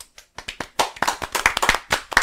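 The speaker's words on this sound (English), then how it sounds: "And now the 10 seconds of clapping." A small group on a podcast breaks into clapping that starts with scattered single claps and quickly builds into fast, overlapping hand claps, fairly close and with no talking.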